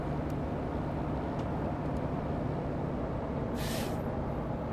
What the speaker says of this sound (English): the brake sounds, I love it